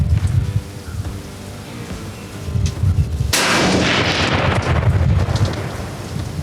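A single loud rifle shot fired at a deer during a hunt, a sharp sudden blast partway through followed by a long rolling echo, standing out against quiet outdoor ambience.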